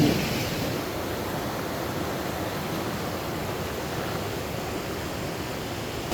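River flowing through Hanu village in Ladakh's Aryan Valley, a steady broadband rush of water with no talk, constant and moderately loud throughout.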